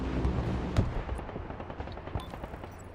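Artillery bombardment in the war game Broken Arrow: a burst of heavy explosions and rapid gunfire thuds, several sharp impacts cracking out amid rumbling detonations over a few seconds.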